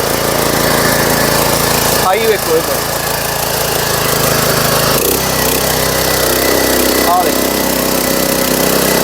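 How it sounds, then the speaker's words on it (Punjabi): A 7.5 hp petrol mini power tiller runs continuously nearby as it plows soil on a farm field, its engine drone steady and loud while someone speaks briefly over it. "ਹੁਣ ਆਪਾਂ ਪਲਾਉ ਮਾਰ ਕੇ ਦਿਖਾਉਣੇ ਆ"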